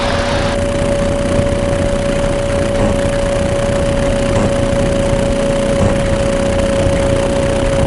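A light aircraft engine holds 4,800 RPM while flying a training circuit at 1,000 feet. It makes a loud, steady droning hum inside the cabin that runs unbroken for the whole stretch, with no talking.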